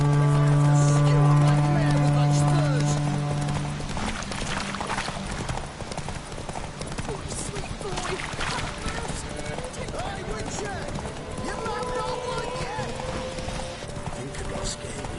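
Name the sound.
horse Roach galloping, hoofbeats, from a video game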